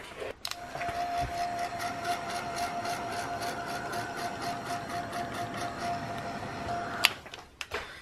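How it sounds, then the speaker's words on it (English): A heat tool blowing hot air over wet paint on an artwork, making a steady whirring blower drone with a whine held for about six seconds that then cuts off, followed by a short click. "okay, heat tool."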